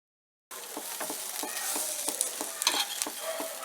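Bread omelette sizzling and frying in a pan, with brief stirring and flipping taps over a steady crackle; it starts suddenly after a short silence and carries on with no voices.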